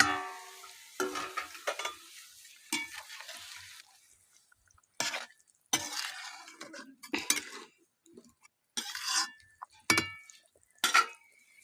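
A pan of katla fish kalia gravy bubbles on the stove as fried fish pieces are added, bringing bursts of sizzling, utensil scrapes and clinks in short, separated clusters with quiet pauses between them.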